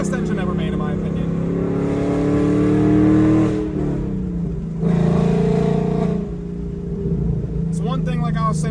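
A Ford Mustang Dark Horse with the Coyote V8 engine revs and pulls while driving, its loud droning tone rising and falling in several surges with gear changes, heard from inside the car along with someone speaking over it.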